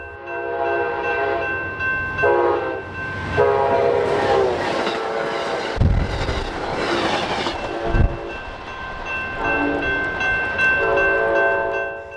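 An Amtrak Cascades passenger train rumbles past close by in Oregon, its horn sounding in long sustained blasts over the rolling clatter of wheels.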